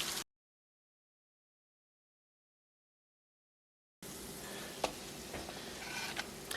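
Potatoes frying in olive oil, giving a steady close sizzle with occasional pops, heard after a long stretch of silence.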